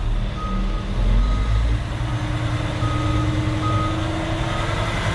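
A six-wheel-drive concrete mixer truck churns through mud with a loud, steady low engine rumble close by, while a high beeping repeats now and then over it.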